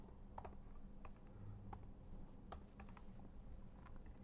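Keys clacking on a computer keyboard while entering numbers for a calorimetry graph, sparse separate taps in short bursts over a steady low hum, close and faint, with no one talking.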